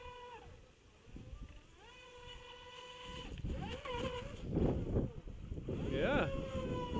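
A Feilun FT011 65 cm water-cooled brushless RC racing boat runs on water, its thin electric motor whine rising and falling as it speeds and turns, heard at a distance amid gusty wind noise and splashing.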